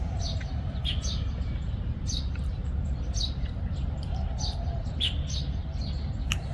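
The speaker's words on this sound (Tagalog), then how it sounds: "Dami kumakanta na ibon." Many birds chirp and sing outdoors in countryside surrounded by rice paddies, scattered short calls repeating throughout over a steady low background rumble.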